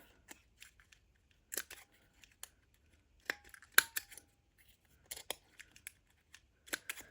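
Scissors snipping paper corners round while making a mini accordion journal, a handful of short, crisp cuts in quiet clusters, close and faint with silent gaps between them.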